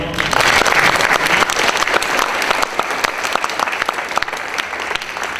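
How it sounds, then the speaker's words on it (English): An audience at a university lecture series gives a final round of applause for a panel, a strong burst of clapping that gradually thins and settles into scattered claps. "we have one final round of applause for our panel"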